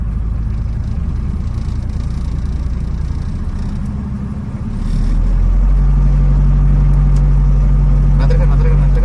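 A car pulls away in a driving lesson: the engine idles under a voice, then swells into a louder, steady low drone with a sustained hum as it moves off.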